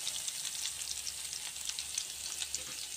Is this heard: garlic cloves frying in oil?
yes